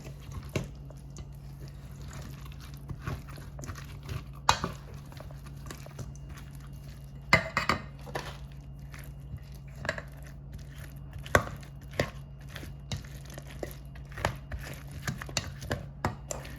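Cauliflower salad is stirred together with mayonnaise in a bowl, giving soft wet squelches and irregular light clinks and taps of a utensil against the dish, close and fairly quiet over a low steady hum.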